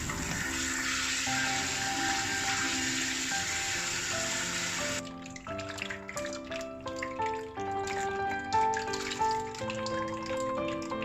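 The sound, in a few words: rinsing cabbage under running tap water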